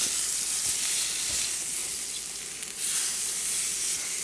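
Steaks sizzle and fry steadily on a Coleman camp stove, a dense continuous hiss close by with a few soft clinks as the meat is flipped; no talking.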